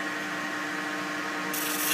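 Glass paper rubs against an ebony pen blank spinning on a lathe, a steady close abrasive hiss over the motor's constant hum, brightening slightly near the end, with no speech.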